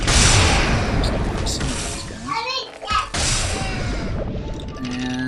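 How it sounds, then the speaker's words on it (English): Corpse explosion spell cast in a mage-focused action video game, bursting as a sharp crash with a whooshing sweep amid a dense, continuous clatter of game effects and combat noise. "Corpse explosion."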